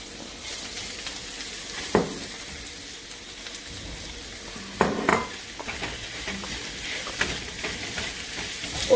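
Onion going into ghee with garlic and ginger for Rajasthani daal baati, a loud close sizzle with sharp bursts as pieces hit the hot fat, then a continuous frying crackle with scattered stirring clicks.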